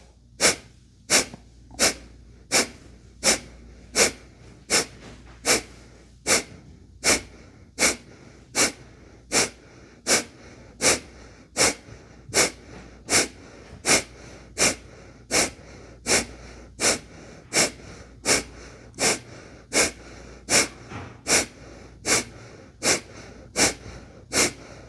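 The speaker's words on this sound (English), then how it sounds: "And we're here for a minute with breath of fire." Breath of fire, a rapid yoga breathing exercise during a kundalini kriya: sharp, forceful nasal exhalations in a steady, even rhythm, close and loud, repeating without pause for the whole stretch.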